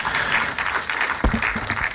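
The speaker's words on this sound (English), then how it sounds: "Please, another resounding round of applause for him." Brief, dense applause from an audience at the presentation of the 2024 Transparency and Integrity Index, steady and moderately loud throughout with a bump or knock midway.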